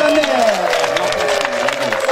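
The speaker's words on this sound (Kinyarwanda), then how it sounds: "amashyi menshi cyane" Loud, dense applause fills a wedding gathering, with crowd noise and a voice heard over the clapping throughout the short burst.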